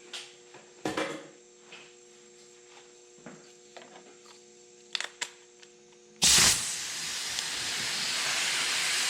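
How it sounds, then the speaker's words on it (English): A leaking mechanical fuel injection pressure regulator hisses in a sudden loud steady burst after scattered clicks and faint hum, the hiss continuing strongly to the end; no talking. "My regulator leaks a little bit on the bottom"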